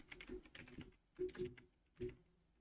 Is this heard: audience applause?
no